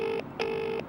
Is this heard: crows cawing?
no